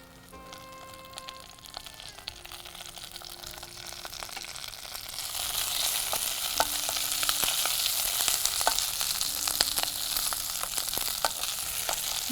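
Washed curry leaves dropped into a small amount of hot oil, starting as a quiet crackle and swelling into a steady, close sizzle with scattered sharp pops, alone without talk.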